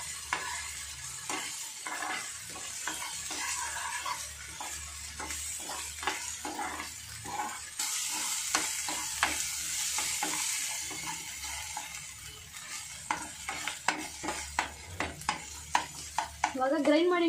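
Food fries and is stirred in a pan for an egg pepper dry, a continuous sizzle with frequent scraping and clinking spoon strokes that grow sharper toward the end, close and soft, with some talk in the background.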